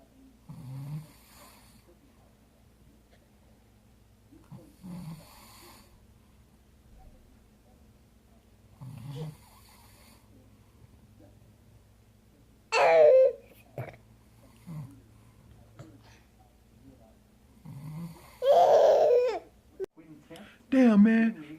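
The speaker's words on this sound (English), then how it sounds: "Why you always snore so loud?" A person snores loudly in a room at home, slow rhythmic rasping breaths repeating every few seconds, with someone talking over it in bursts.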